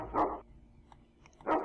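Dog barking in the OpenXcom video game: two short, muffled barks about a second apart, fairly quiet, with faint game sounds between them.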